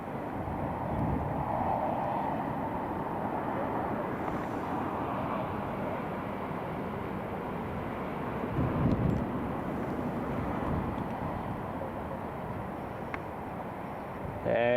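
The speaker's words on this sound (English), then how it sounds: "There she is, there's the A350." An Emirates Airbus A350 airliner on approach to Newcastle Airport drones in the distance, a broad, steady roar mixed with wind buffeting the microphone, faint and sustained with no clear talking.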